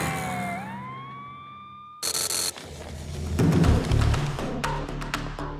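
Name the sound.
ambulance siren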